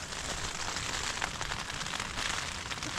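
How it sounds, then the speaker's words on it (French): Heavy rain drums on a tent, a dense, steady patter with scattered sharper drop hits, fairly quiet overall and with no talking. "il pleut de fou. On est dans la tente là."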